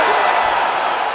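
A broadband wash of arena crowd applause and cheering at a simulated UFC 5 mixed martial arts fight, loud and sustained without breaks.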